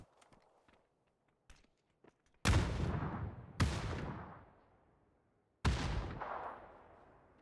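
Three loud, sharp sniper rifle cracks ring out a second or two apart in a competitive PUBG esports match, each trailing into a long echoing decay, after a few faint clicks and footsteps.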